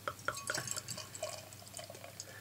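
BrewDog Jackhammer West Coast IPA is poured into a BrewDog glass, giving soft trickling, fizzing and light glassy drips, faint and close.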